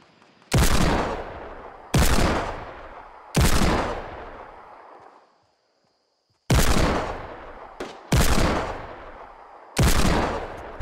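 A Fortnite hand cannon fires six heavy single shots at slow, uneven intervals, each a loud sharp crack ringing out into a long decaying echo, with near silence between them.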